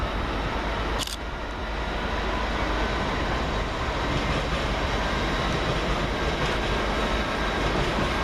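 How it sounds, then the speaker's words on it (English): LNER 800-208, working the London King's Cross to Lincoln Central service, rumbles through Peterborough station as a loud, continuous broadband roar with a brief sharp click near the start and no speech. "Next up for LNER is 800-208, working the 11:01 LNER service from London King's Cross to Lincoln"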